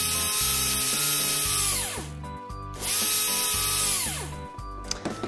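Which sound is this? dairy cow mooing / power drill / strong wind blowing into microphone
power drill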